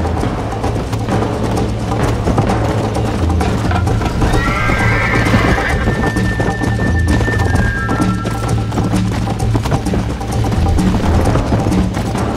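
Horse galloping at a steady clip-clop with a neigh partway through in the video game Red Dead Redemption, loud and continuous over a low rumbling game soundtrack.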